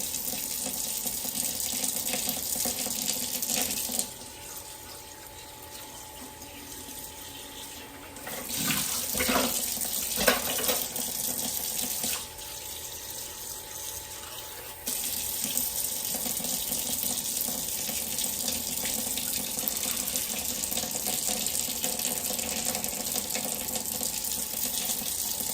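A kitchen tap runs steadily into a sink as seafood is washed in vinegar, a continuous splashing rush that dips and changes tone as the stream is moved or briefly interrupted, with no talking.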